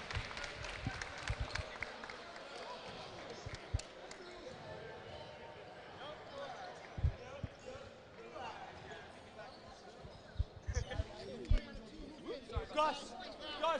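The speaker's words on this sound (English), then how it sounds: "Big round of applause." Crowd at a school basketball tournament game giving a round of applause to the Rochelle Zell Tigers team, scattered clapping and cheering mixed with a loud announcer voice, ball bounces and sneaker squeaks in a gym.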